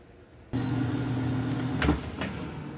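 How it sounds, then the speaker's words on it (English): Air fryer humming steadily at 385 degrees as it runs near the mic, then a short sharp click and rattle around the midpoint, fading back into the low hum. "The air fryer has finished preheating again."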